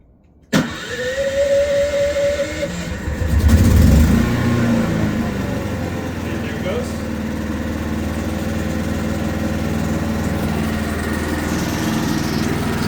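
A Predator 11,500 super quiet inverter generator running on gasoline starts up and settles into a steady, even no-load hum, with a brief surge in the first seconds before holding constant.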